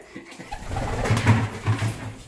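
Young pigeon squabs coo and chirp close by in a loft, a soft, steady run of murmuring calls with no talking.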